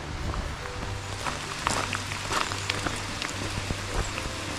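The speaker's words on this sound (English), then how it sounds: "About 3 miles in, still raining, but it has lightened up quite a bit." Lightening rain patters steadily around a hiker on the Cades Cove Loop in the Smoky Mountains after a lightning storm, with soft scattered drops and faint movement noises close by.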